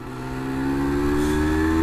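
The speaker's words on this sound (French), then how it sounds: "C'est histoire de trouver une excuse pour décrasser un peu le moteur." A Yamaha TDR 125cc two-stroke motorcycle revs steadily upward, its engine pitch rising in a loud, close, continuous drone with no talking.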